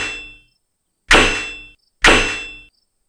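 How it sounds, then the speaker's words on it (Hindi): A hammer strikes a large rusty iron lock on an old trunk three times, each a loud, ringing metallic clang that decays slowly, with no talk. "ताला तोड़ना पड़ेगा। मेरा हथौड़ा कहाँ है?"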